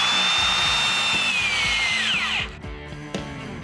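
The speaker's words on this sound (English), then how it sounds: "for those large plumbing and electrical holes in framing, take a good look at the Porter Cable 7556." A Porter Cable 7556 drill bores large plumbing and electrical holes through wood framing, its motor whining loud and high with a rhythmic chugging under it, then winding down sharply near the end.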